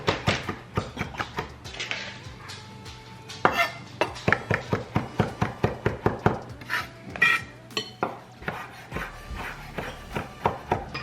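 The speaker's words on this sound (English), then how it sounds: "I'm just gonna chop those up with the thyme" A knife chops sage leaves together with thyme on a cutting board, giving a steady run of sharp, close, evenly spaced chops that continue throughout with no talking.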